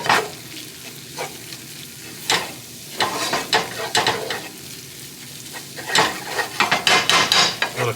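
Liquid poured into a hot frying pan for pizza sauce bursts into loud sizzling, followed by repeated scraping and stirring strokes of a utensil against the pan, close and rhythmic, with no talk.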